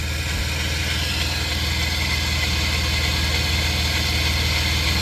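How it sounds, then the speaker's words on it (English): A 1994 Chrysler Town & Country engine idles steadily and loud up close, a constant low hum with a faint rubbing belt riding on a crank pulley that is not fully pressed in, no talk over it. "That's probably what I hear is the belt rubbing on that."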